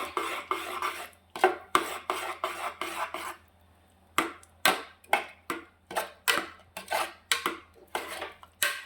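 A spoon stirs sweet beans cooked with cardamom and ghee in a pan, scraping in steady repeated strokes, each a sharp metallic rasp, loud and close, with one brief pause and no talk.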